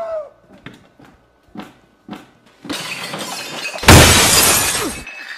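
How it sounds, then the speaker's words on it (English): Glass shatters loudly indoors near the end, a sudden bright crash with scattering debris, after a series of soft thuds like something tumbling down stairs. "Why'd you break the glass?"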